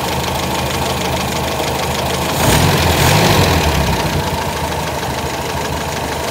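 Toyota 4K engine idling steadily at about 750 RPM during a tune-up, a loud, close, even mechanical chug with a rhythmic knock that swells slightly for a moment before settling, with no voices.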